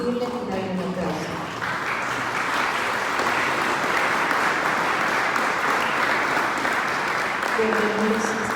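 A church congregation applauds in a steady, dense wash of clapping that swells and holds for several seconds, with a voice speaking over the start and end.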